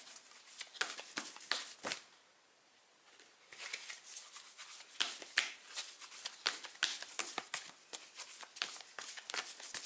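A deck of oracle cards being shuffled close up, with quick papery riffles and flicks in uneven bursts and one short pause near the start.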